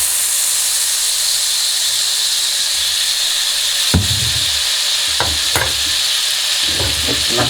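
Soy sauce and margarine hit chicken in a hot pan and set off a loud steady sizzle and hiss, broken near the middle by sharp stirring scrapes and knocks.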